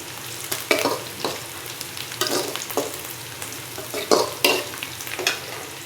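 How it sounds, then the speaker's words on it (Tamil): Sliced onion and crushed garlic fry in a pan, giving a continuous sizzle broken by repeated stirring scrapes and clatters, close and fairly loud. "பூண்டு ஒரு 5 பல் பூண்டு நெசுக்கி போட்டுக்கோங்கம்மா. நல்லா பொன்னிறமாக ஆகட்டும்."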